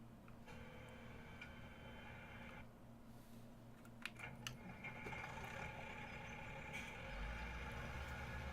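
A tractor engine idles in the video game Farming Simulator 17, a low steady hum with tonal drone and some clicking ticks, growing slightly louder toward the end.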